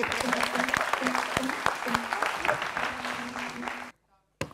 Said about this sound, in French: Applaudissez pour Kuyo